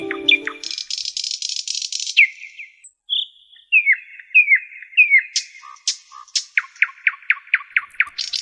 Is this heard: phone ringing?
no